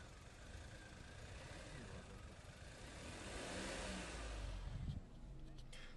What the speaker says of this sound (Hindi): तो अगर मैं रेव करूँगा तो दिस इज़ द नॉइस